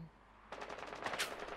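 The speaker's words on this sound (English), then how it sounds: "Oh, wallbang hip fire" Hip-fired gunshots through a wall in Rainbow Six Siege, a fast burst of rapid, evenly spaced cracks starting abruptly and running to the end, fairly close and sharp.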